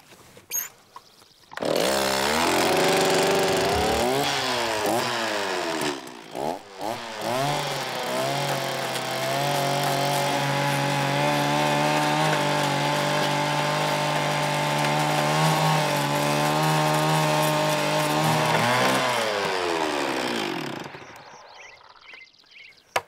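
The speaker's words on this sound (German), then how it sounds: "Das ist jetzt eine Fräse, die macht im Endeffekt das gleiche wie der Deckel, bloß dass es leichter geht, weil es werkelt der Motor umeinander" Motorized milling cutter carving out a wooden trough for a fountain, a loud continuous whining machine roar with shifting pitch, briefly stopping early on, running steadily for nearly twenty seconds before cutting off.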